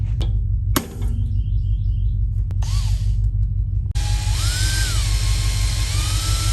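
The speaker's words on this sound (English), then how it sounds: "So we'll just keep drilling and hopefully it works out." A power drill bores into a part during timing-belt repair on a vintage RV. Short whining bursts give way to a sustained high drilling whir over a steady low hum.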